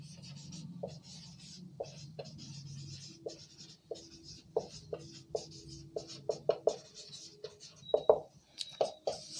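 Writing on a board: a string of short tapping and scraping strokes, irregular and quickening toward the end, close and fairly quiet with no talk over it.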